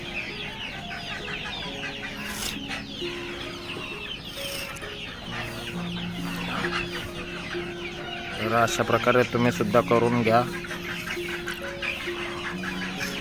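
Backyard hens cluck steadily close by, with a louder flurry of calls near the end, while someone talks throughout.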